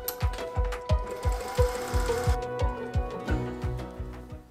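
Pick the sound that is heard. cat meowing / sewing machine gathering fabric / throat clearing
sewing machine gathering fabric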